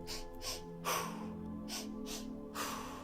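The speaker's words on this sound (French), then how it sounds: "Il s'agira d'inspirer 2 fois et d'expirer 1 fois." A person doing a guided breathing exercise of two inhales and one exhale takes quick, audible nasal sniffs and breaths in a repeating rhythm, close and soft, with a faint steady hum underneath and no talking.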